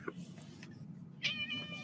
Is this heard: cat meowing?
yes